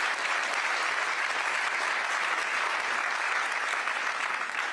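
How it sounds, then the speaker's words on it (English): An audience at a political event, a bipartisan No Labels gathering of Democratic and GOP lawmakers, breaks into steady, dense applause that holds at an even level throughout, with no voices over it. "Can we have an applause for her being and get started here?"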